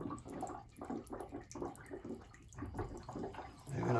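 Water bubbles and gurgles in bursts as air is purged from a gas boiler heating system, a close, wet churning with voices talking over it.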